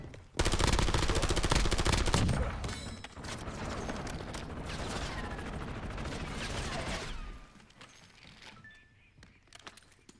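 Rapid automatic gunfire from a shooter video game, a dense, loud burst of shots that tapers into sustained, scattered fire, then gives way to quieter ambient noise and faint clicks.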